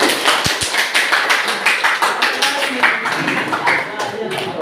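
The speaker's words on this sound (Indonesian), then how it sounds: "Satu kita beri aplaus dulu untuk kelompok." Classroom applause for a student presentation group, a short burst of clapping from several people that starts with a couple of sharp thumps, under the teacher's voice, then fades into scattered claps and room noise.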